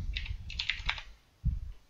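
Fingers tap quickly on a computer keyboard in a short burst of close, crisp clicks during a Battlefield 4 gaming session, then fall quiet before a low thump.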